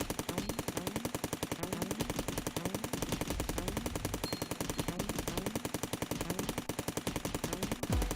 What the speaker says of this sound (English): the assault rifle is becoming a force to be reckoned with, at least.